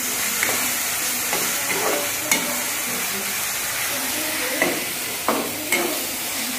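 Onions frying in oil in a pan for matar paneer, a steady bright sizzle with occasional soft clicks from stirring.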